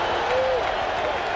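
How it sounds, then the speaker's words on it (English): A large ballpark crowd at Game 6 of the 1986 World Series, the Mets at home, roars and applauds in a steady, dense wash of cheering, loud and continuous. "This crowd has reason to cheer."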